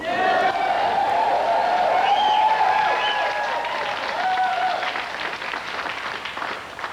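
A live show crowd breaks into dense applause with cheers and whoops, loud and sustained, then gradually thins toward the end.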